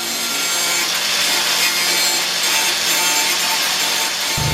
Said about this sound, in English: he's cutting all the screws off that went through this center